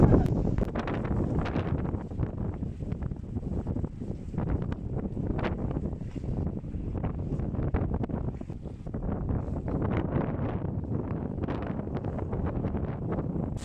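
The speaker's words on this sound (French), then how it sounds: "Parce que ça souffle, hein." Strong, steady mistral wind of about 25 knots roars and buffets the microphone aboard a sailboat, with low rumbling gusts and a hint of water and boat motion beneath.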